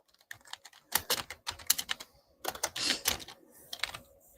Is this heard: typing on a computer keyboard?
yes